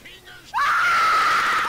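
A loud, sustained high scream bursts in abruptly after a quiet moment and holds steady to the end, used as a sound effect.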